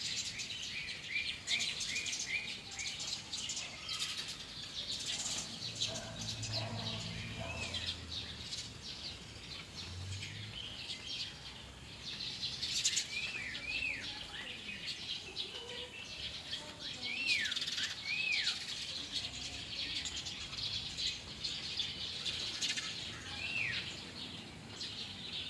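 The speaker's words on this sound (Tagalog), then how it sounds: "Pakinggan nyo na lang yung mga huni ng ibon." Birds chirp and sing outdoors in repeated bright calls and trills over a soft, steady background hiss, with light rustling nearby.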